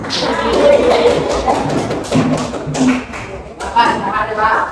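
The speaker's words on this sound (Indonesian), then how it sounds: "Oke, tepuk tangan dulu untuk kita semua" A classroom group applauds everyone together, steady close clapping with thumps and taps running the whole time, mixed with voices talking over it.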